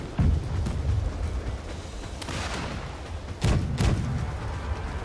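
Ship cannons firing during a naval battle in the Blackwake pirate video game: several deep booming shots, some close together, over a steady rumbling background of wind and sea.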